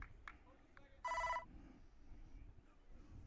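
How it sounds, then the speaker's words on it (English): A telephone rings once in a short, bright electronic burst at a baseball game, rising over crowd murmur and background chatter. "Your phone makes more noise than my daughter's phone."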